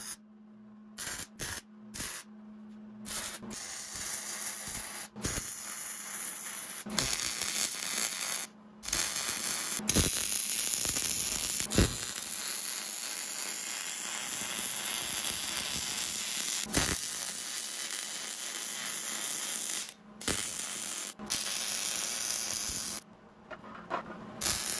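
MIG tack-welding a steel bracket onto a Toyota solid-axle steering knuckle, a steady hissing, crackling buzz that runs in long bursts with short silent breaks between welds, close and fairly loud, no talking.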